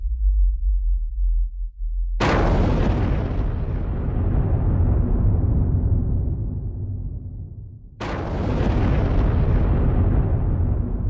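Underground nuclear bomb test: two massive explosions, each a sudden thunderous blast followed by a long rumbling decay, the second arriving about six seconds after the first, with a low hum before the first.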